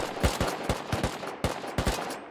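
Gunfire in the video game Bellum, a run of sharp, loud shots spaced in an uneven rhythm, roughly a dozen reports in quick succession with no voices over them.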